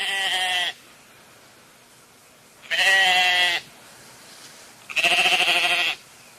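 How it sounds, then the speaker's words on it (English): Sheep bleat three times in a farmyard setting, each cry long and wavering, loud and close, separated by quiet pauses. "Mike had had trouble with some sheep."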